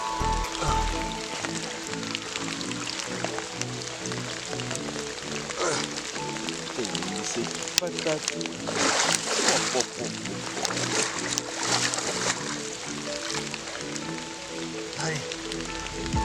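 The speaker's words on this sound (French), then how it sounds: "Ça pleut." Rain falls steadily during a carp fishing session outdoors, a continuous broadband hiss and patter running through the whole stretch beneath people talking.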